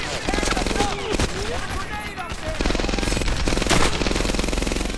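Rapid World War II gunfire from the video game Medal of Honor: Airborne, dense bursts of automatic fire and shots layered with someone talking over it throughout, loud and continuous.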